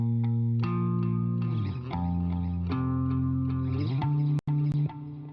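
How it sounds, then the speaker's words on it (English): A synth music track processed with an Echo Boy ping-pong delay plugin plays sustained chords with repeating echoed notes, distorted and layered, cutting out briefly near the end. "And good old Echo Boy, just to probably ping pong in it."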